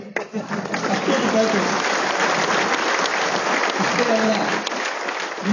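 An audience at a Kannada spiritual discourse claps in a dense, sustained burst of applause lasting several seconds, with a voice faintly audible underneath.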